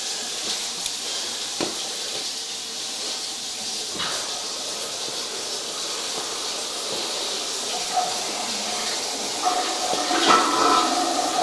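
Water running through the plumbing of an old home, a continuous hissing rush with a few faint knocks and clanks, growing slightly louder near the end, with no speech.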